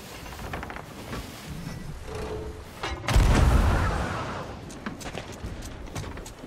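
Cannon fire in the pirate game Sea of Thieves, with a heavy boom near the middle, standing out from steady background noise and scattered sharp reports.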